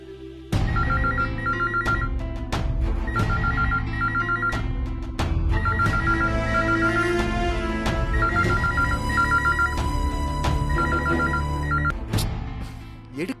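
A phone ringtone plays repeatedly while a call to a grandfather goes unanswered in a Tamil TV serial, loud electronic ring bursts set over a musical background score.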